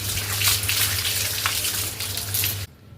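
Water splashes and streams steadily over a cow being bathed by hand, a loud continuous gushing with a low hum beneath it that cuts off abruptly near the end.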